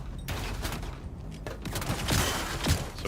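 Shotgun fire in the video game Star Citizen comes as a rapid volley of heavy booming blasts and crackling impacts over a dense, loud battle-noise bed, with several sharp peaks close together and no talking.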